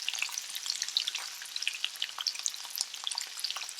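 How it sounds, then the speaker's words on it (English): Onion and hot pepper fry in olive oil over medium heat, crackling with a busy, bright sizzle full of rapid tiny pops that runs steadily throughout. "The onion has been cooking for just about a minute."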